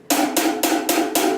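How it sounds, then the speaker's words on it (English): Four crisp, short hi-hat hits played closed, evenly spaced and close up, each a tight bright chick that cuts off quickly. "This one's called a hi-hat,"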